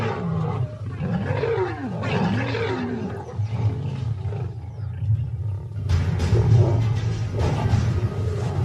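Lions roar loudly and continuously at close range, with heavy low rumbling growls and snarls from an adolescent pride picking a fight with a large female, the noise swelling again near the end.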